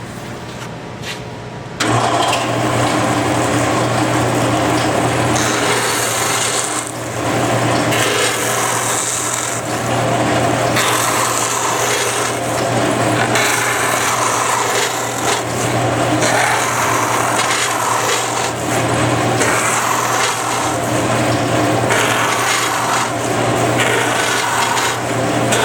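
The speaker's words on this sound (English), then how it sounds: "then we can take it to the belt grinder and we can round it smooth" Belt grinder sanding a bandsawn wooden piece round and smooth: a loud, continuous abrasive rasping over a steady motor hum, starting abruptly after a short quiet lead-in and running unbroken.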